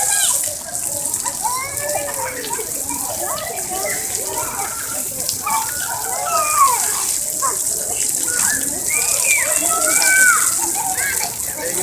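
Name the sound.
child playing with water at a zoo waterpark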